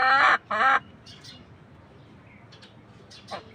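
Silkie hens give two loud, close clucks in quick succession, then fall to quieter scattered clucks and chirps over a low background.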